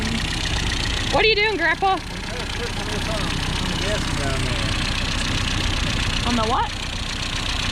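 Opel GT engine with a Weber 32/36 carburetor idling close by in a steady, even rumble, while two people talk briefly over it.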